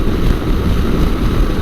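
Constant, loud roaring wind buffeting the microphone while riding a 2022 Yamaha Tenere 700 motorcycle, a heavy low rumble that stays steady with no break and no voices.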